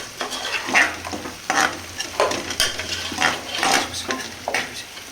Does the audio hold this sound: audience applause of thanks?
no